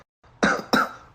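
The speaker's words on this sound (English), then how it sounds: "Cough, cough." Two quick, close coughs from one person in quick succession after a brief silence.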